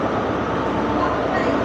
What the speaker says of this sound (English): That's it there, that's our train.